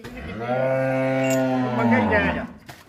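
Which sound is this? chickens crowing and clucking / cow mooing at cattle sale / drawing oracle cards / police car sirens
cow mooing at cattle sale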